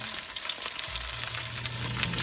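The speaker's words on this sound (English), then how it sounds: "The bad thing about frying." Steady crackling sizzle of food frying in a pan, continuous and close, with a low hum underneath and no voices.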